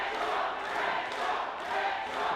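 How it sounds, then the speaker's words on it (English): Crowd at a live wrestling show cheers and roars steadily, a dense, loud wash of voices rising and falling in waves, with no single voice standing out. "The crowd loves it, and there goes Cornell."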